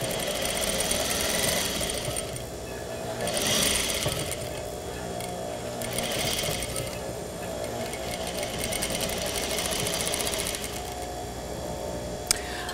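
A sewing machine back stitches and then runs forward along a French seam, a steady close mechanical whirring and rapid needle chatter that continues throughout, with slight swells in speed.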